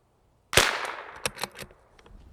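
A CZ 457 rifle fires one sharp, loud shot outdoors, followed by a few quick, fainter metallic clicks and clatters of the action as the sound decays.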